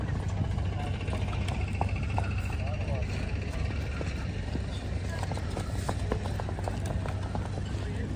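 Hooves of a ridden mare clip-clopping in a steady rhythm at a horse market, with a loud, constant motor-like rumble throughout and occasional outdoor noises.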